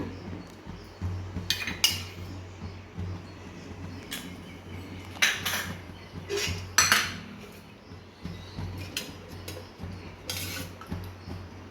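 Metal cookware clanks and clinks intermittently at close range as a pan and a pressure cooker are set down on a kitchen stove, scattered sharp knocks separated by quiet gaps.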